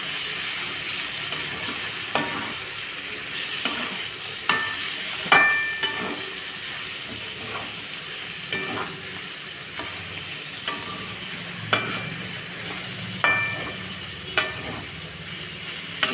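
Bitter gourd pieces and onion frying in oil, with a steady low sizzle and a sharp spatula scrape or clink every second or two, no talking.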